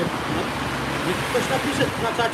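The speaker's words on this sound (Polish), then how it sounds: "czy bardzo słychać te samochody, jak jeżdżą w tle." Cars drive past in the background near a bridge at a fishing spot, a steady low roadway rumble running under close, continuous talk.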